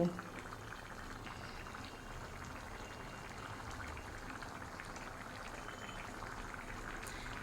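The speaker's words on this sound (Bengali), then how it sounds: "ধনেপাতা কুচি দেওয়ার পর হাই ফ্লেমে করে দেবো আর মিনিট খানেক মতো ফুটিয়ে নেব।" Chickpea lentil dal with chicken bubbles at a steady rolling boil over a high flame, a low continuous gurgle and pop, fairly faint and close, with no talking.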